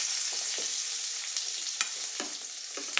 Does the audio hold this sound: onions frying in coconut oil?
yes